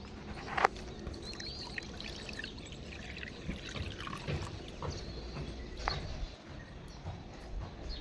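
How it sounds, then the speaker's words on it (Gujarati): Water pours steadily and splashes into a bird water bowl outdoors, a continuous trickling with a brief sharper splash near the start. "કુંડામાં તો પાણી છે એ આપણે નાખી દીધું છે"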